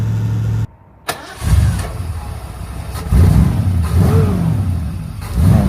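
A big Ford Cleveland 5.7-litre V8 engine in an Iso Rivolta Lele cranks, fires up with a loud burst, then settles into a deep, throbbing idle with occasional revs.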